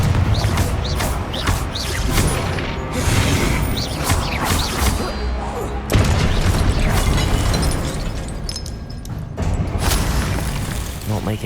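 Fire and explosion spells cast in Hogwarts Legacy, Incendio flames and Confringo blasts, make loud dense bursts, booms and whooshes layered over constant combat noise and game music, with a voice calling out the spells.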